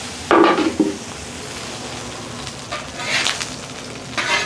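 Potatoes frying in oil on a Blackstone griddle: a steady hiss of sizzling with sharp clanks of a metal spatula early on and bursts of louder crackling later.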